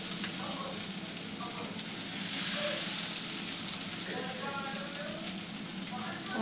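Mint leaves crackling and sizzling in hot tempering oil in a pan for pudina rice, a steady close frying hiss with bursts of spattering throughout and no speech.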